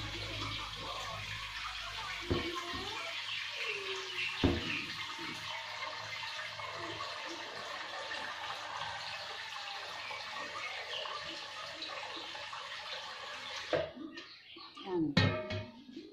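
Water pours steadily into a basin to make slaked-lime water for candying santol. The pouring is a soft, continuous splash that ends with a few sloshes, and a voice is heard faintly.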